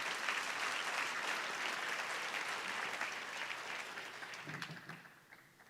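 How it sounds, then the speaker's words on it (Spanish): Church congregation applauding during a service: a steady, dense wash of many hands clapping that holds for several seconds, then thins out and fades toward the end. "Le das un aplauso a Dios por tu vida"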